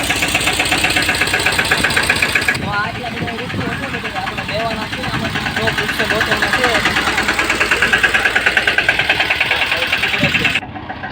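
A diesel tractor engine idles nearby at a tree nursery with a steady rhythmic knocking throb, while people talk over it.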